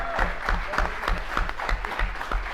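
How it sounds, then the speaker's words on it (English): Applause for the winning team at a CUNY college esports match, City College versus Brooklyn: steady clapping from a room of people, with a few voices mixed in underneath. "Let's give them a big round of applause"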